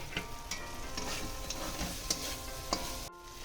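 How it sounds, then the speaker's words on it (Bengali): Fried rice, cashews and raisins are stirred with spices in a pan: gentle sizzling under scattered spatula clicks and taps, quiet and close, with no talk. "এবার আমি এর মধ্যে ভেজে রাখা চাল আর কাজু কিশমিশটা দিয়ে আবার একটু মশলার সাথে নেড়ে চেড়ে নেব।"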